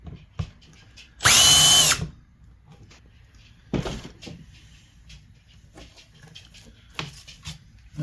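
A power drill countersinks holes during assembly of an Open Antikythera FullMonty kit, giving one loud sustained burst of whining drilling followed by two shorter, quieter bursts, with light handling noises between them.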